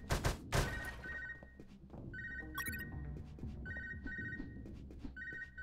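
Repeated electronic ringing from a radio in the video game Unmetal, sounding like a telephone, with short bursts recurring every second or so over low background game ambience and a couple of dull thumps at the start.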